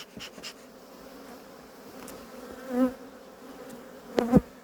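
Faint, steady buzzing of black honeybees in the background, with a couple of louder passes as bees fly close to the microphone.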